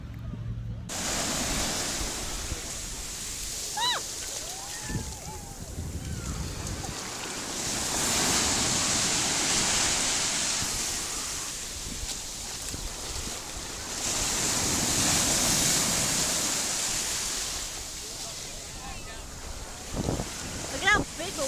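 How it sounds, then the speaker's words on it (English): Big ocean waves break at the beach in loud, surging roars that swell and recede, mixed with heavy wind noise on the microphone and occasional voices nearby. "Look at how big the waves are."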